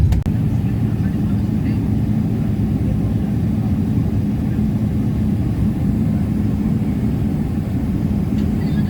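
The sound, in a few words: airplane landing at Phnom Penh airport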